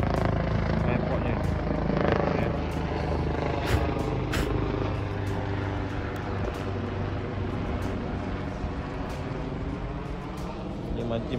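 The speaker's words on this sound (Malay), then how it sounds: "Helikopter pun banyak ni." Loud, steady rotor thrum of helicopters close by near an airport, constant throughout with faint voices underneath.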